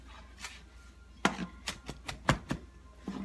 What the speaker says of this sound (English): have some parsley that I'm going to roughly chop